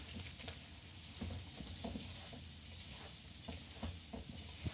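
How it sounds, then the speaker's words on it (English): Gluten-free jalapeño and cheddar muffin batter made with all-purpose gluten-free flour is stirred in a bowl, giving soft, steady wet scraping and patter with faint spoon taps throughout, no talking. "I'm going to start mixing that up. And this is going to make our batter."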